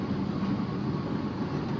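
Inside a Bangkok metro train, a steady low rumble and hum of the moving carriage continues throughout with no voices.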